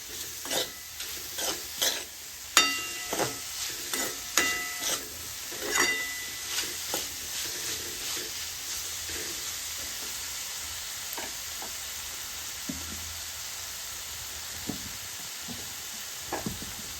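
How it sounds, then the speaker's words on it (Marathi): Ridge gourd tossed with spices in hot oil in a home kitchen pan, stirred in a run of sharp scraping strokes over a steady sizzle, with the scraping thinning out later and only occasional clinks. "आपल्याला 2 मिनिटं परत व्यवस्थित हे तेलावरती हा दोडका भाजून घ्यायचा आहे"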